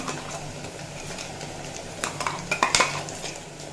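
A spoon clinks and scrapes against a frying pan as poppy seed, tomato and green chili paste goes in over fried potatoes for a bitter gourd dish, with a few sharp metallic knocks close by over a faint kitchen hiss.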